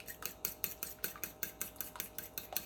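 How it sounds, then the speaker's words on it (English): Ingredients for Italian lemon chicken, seasoned with salt and pepper, are mixed briskly in a bowl, a utensil clinking against the sides in a quick, steady rhythm of close, light metallic taps. "So mix that very well."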